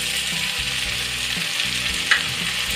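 Tomatoes tipped into a frying aloo baingan matar curry of potatoes and eggplant, a dense steady sizzle with scraping stirring and a brief sharp clink, close and fairly loud.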